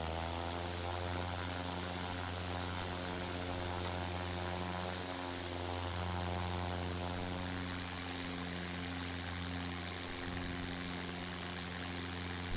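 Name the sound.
Cessna 172 engine in flight simulator video game (A2A, over Norway)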